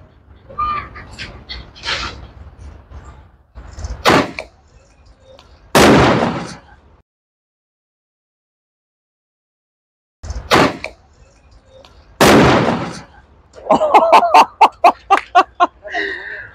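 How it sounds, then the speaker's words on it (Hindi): A sky shot firework launched beside a motorbike gives several sharp, loud bangs and whooshing bursts, separated by a silent gap and ending in a rapid string of crackling pops; voices talk between the blasts. "इसका शॉट ने इतना बैक मारा पीछे को, रस्सी सारी जला दी"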